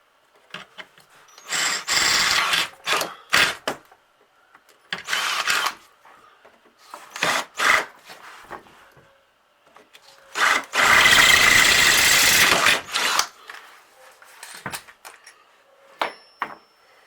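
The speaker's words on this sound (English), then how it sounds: "Easier to use two drill bits, smaller one and then the larger one." A power drill whines in repeated bursts while drilling holes in 2018-2019 Can-Am Maverick Sport wheel wells, several short runs and one longer sustained drilling stretch, with quiet pauses between, close by.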